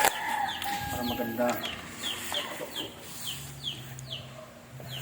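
Chickens cluck and squawk repeatedly nearby, with a brief spoken phrase near the start and light background noise throughout.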